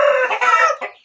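Rooster at a fowl keeper's coop letting out loud, close clucks that rise into a short crowing burst, a brief second call near the end, with no talk over it.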